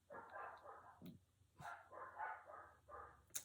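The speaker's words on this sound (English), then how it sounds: "annoying dogs that are barking during your freaking video" Dogs bark in short bursts of several rapid barks with brief pauses between, somewhat distant and fairly faint, with a high yip at the very end.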